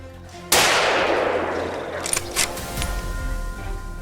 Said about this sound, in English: Gunshots rang out immediately